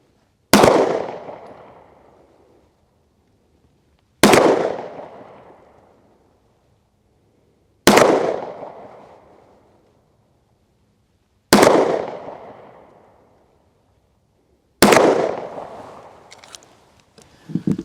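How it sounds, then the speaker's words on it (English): A Daniel Defense H9 9mm pistol firing AAC 115 grain full metal jacket rounds: five loud, sharp shots evenly spaced about three and a half seconds apart outdoors, each with a long echoing decay, plus a few faint clicks after the last. "Let's see what kind of velocity we're going to get using the Daniel H9. We'll just shoot off 5"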